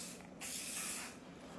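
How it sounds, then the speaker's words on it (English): Hairspray hisses from an aerosol can onto hair in one steady burst of about a second, close and fairly quiet, with no talk over it. "Spray."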